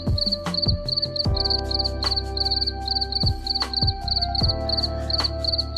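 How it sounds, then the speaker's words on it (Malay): Crickets on a cricket farm chirp in rapid, evenly spaced high trills that repeat continuously and close by, over low tonal background music. "Cengkerik adalah sejenis serangga yang berwarna perang dan hitam serta mengeluarkan bunyi dengan menggeserkan kepaknya."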